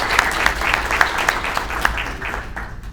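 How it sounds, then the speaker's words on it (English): A room full of people applauds at an awards event, a dense steady patter of clapping that fades slightly toward the end. "So a round of applause for everybody and their efforts to make Beacon a success."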